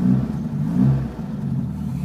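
A Mk2 Ford Escort estate idles through a stainless exhaust pipe, a low, throaty burble with slight rhythmic pulsing and a brief swell, steady and close with no voices.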